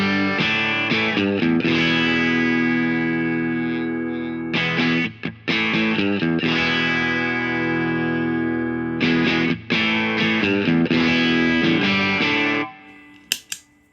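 An electric guitar plays through a Two Notes Genome with a clean boost pedal, a series of strummed chords and ringing notes with reverb, bright and full, stopping briefly between phrases and ending in a short decay.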